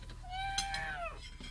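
A cat lets out one drawn-out meow that rises and then falls, close and clear, followed by a faint short trailing sound.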